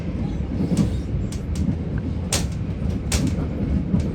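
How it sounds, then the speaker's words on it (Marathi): A UK passenger train pulls into a station, heard from inside the carriage as a steady low rumble with rattles and brief hissing bursts from the doors or brakes. No one speaks. "ट्रेन स्टेशन येते, आता आपल्याला उतरायचं आहे."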